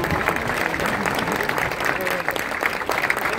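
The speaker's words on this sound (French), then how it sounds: "merci d'applaudir cet événement" Crowd applauding the launch of the ship Energy Observer as it goes onto the water, a steady wash of clapping blended with voices and ambient noise, continuous and fairly loud.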